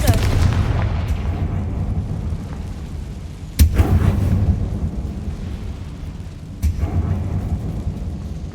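A Confringo fire spell explodes in Hogwarts Legacy, giving heavy booming blasts with a sharp hit near the middle and another later, each trailing into a rumbling decay over low game ambience.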